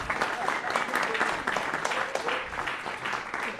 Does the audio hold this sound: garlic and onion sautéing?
no